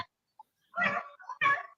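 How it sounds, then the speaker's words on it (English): A distant pack of hounds baying at an animal treed in the woods, two long drawn-out bays with a fainter yelp between them, carrying over otherwise quiet air. "I hear like quite the dog pile happening somewhere"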